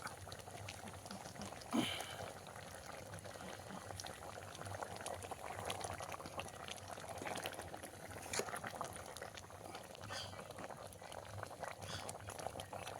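Country chicken curry simmers in a covered pot outdoors in a mango grove, giving a faint, steady bubbling and hissing with a few small pops throughout.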